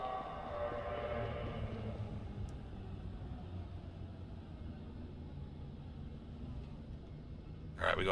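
A steady low rumble from a train ride in a video game, with a louder stretch at the start that eases into a constant drone and a brief sharp noise at the very end.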